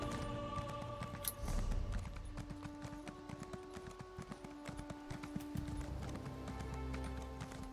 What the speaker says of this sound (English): We'll jump on the horse.